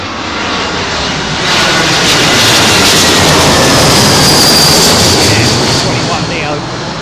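An Airbus A321ceo jet lands on runway 27L at London Heathrow on a windy day, its engine roar loud and close, swelling to a peak midway and easing as it passes, with voices partly audible beneath.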